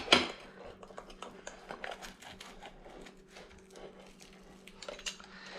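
A knife crunches through crispy pepperoni pizza crust, with many quick crackling snaps and faint clinks of cutlery, close and fairly quiet.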